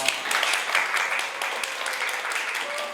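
A church youth group audience applauds to welcome a bodybuilding champion speaker, a dense, even clapping that holds for about three seconds at moderate loudness.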